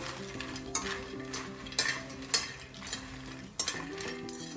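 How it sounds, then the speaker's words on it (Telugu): Makhana lotus seeds frying in a spoonful of oil in a pan, a soft steady sizzle broken by a few sharp stirring scrapes and knocks, close but quiet, no voices. "మక్కానా కలర్ చేంజ్ అయ్యేంత వరకు ఫ్రై చేసుకుందాం ఆయిల్లో"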